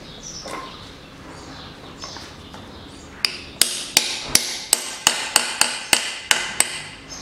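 Metal hammer blows drive a part in while stripping down a 2013 Mitsubishi ASX 1.8 4B10 engine: a few faint taps, then about a dozen sharp, evenly spaced strikes, close and loud, with no talking.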